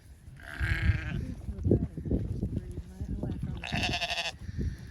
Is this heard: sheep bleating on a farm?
yes